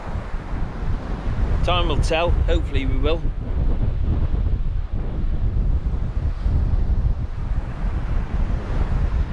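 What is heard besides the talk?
wind and choppy sea on Holderness beach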